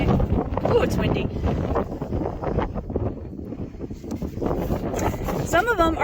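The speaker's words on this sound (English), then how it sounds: "it's windy." Strong wind gusts buffet the microphone outdoors in a mountain setting, a steady roar with rumbling bursts filling the whole clip.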